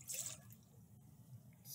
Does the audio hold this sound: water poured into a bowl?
yes